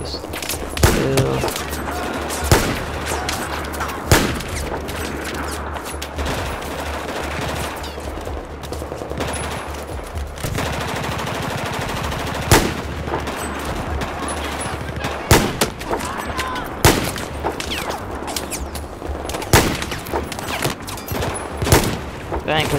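Gunfire in the Xbox One video game Battlefield 4, rapid bursts of automatic weapons and sharp single shots repeating throughout, loud and close, over steady background battle noise.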